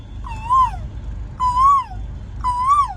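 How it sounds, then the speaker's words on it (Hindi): An Asian koel's clear, rising whistled call repeats three times at a steady pace, loud and near against a quiet low hum. "प्रकृति में बढ़िया कोयल बोल रही है"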